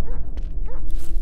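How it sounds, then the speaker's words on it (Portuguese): A dog barks and yips in a forest horror video game: a short burst of close, loud barks with whimpering tones over a low droning game background. "Cachorro."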